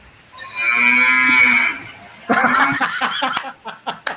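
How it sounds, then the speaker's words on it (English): A phone voice assistant plays a recorded cow moo, one long drawn-out low call, followed by a burst of nearby laughter and chuckling. "Hey Siri, what sound does a cow make?"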